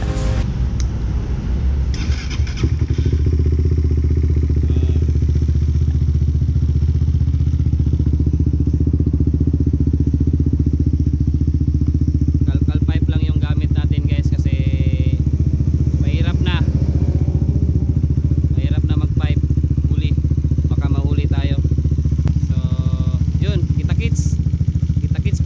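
A custom-built motorcycle with a 15-32 combi sprocket and an open pipe runs steadily and loudly up close throughout, its engine drone continuous, with a few clanks and ticks over it and people talking in the background.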